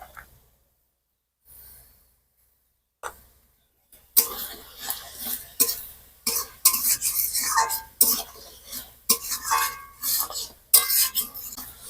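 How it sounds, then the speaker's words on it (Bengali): Soaked spice paste stir-fried in a pan for an egg dish, near-silent at first, then busy metal spoon scraping and stirring against the pan in repeated bursts with light sizzling underneath. "ভিজিয়ে রাখা মশলাটি এবার এর মধ্যে দিয়ে ভালোভাবে কষিয়ে নেব।"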